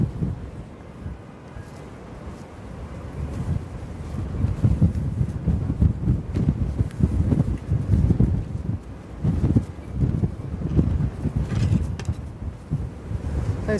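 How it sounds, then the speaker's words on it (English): Strong coastal wind gusts buffet the microphone at Shem Creek, South Carolina, a low rumbling roar that swells and fades irregularly, growing louder after the first few seconds, with no voices. "Those gusts are quite big."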